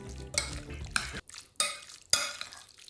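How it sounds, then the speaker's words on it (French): A spoon stirs cooled cooked tomatoes with parsley in a bowl, making close, wet scraping strokes in four distinct bursts with brief pauses between them. "On va mélanger."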